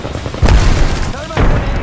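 Thermite grenade blast in Apex Legends during a pistol-only match, two heavy booming bursts about a second apart amid game noise and callouts.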